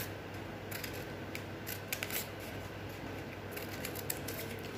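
Scissors snipping paper into 2 cm strips for a paper basket, soft quiet crisp clicks and snips scattered at irregular intervals over a faint steady background hiss, close and gentle.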